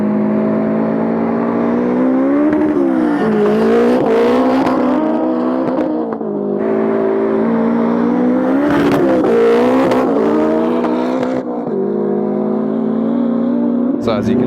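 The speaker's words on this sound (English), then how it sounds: "now we've got a Supra versus like the MR2 that's got a K20 turbo. These guys are about to start their first roll race" A Toyota Supra and a K20-turbo Toyota MR2 in a roll race, with loud droning engines and rising, shifting revs carrying throughout at close to moderate distance.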